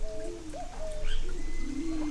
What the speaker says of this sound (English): Here's a little bird.